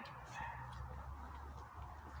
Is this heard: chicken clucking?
yes